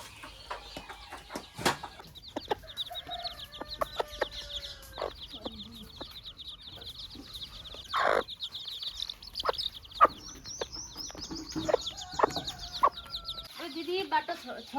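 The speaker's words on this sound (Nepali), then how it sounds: "कुखुराले त चल्ला लिएर आउँदै हुन्छ" A village hen clucking as she leads her chicks, with repeated short clucks and chirps near and far over a rural backdrop, plus occasional thumps and voices.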